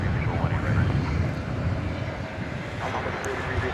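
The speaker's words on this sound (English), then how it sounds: "United, Flight 1387, going to San Francisco," A United Airbus A320 jet departing DFW Airport at night, a broad continuous engine roar at moderate distance that stays steady for a few seconds, with faint voices audible beneath it.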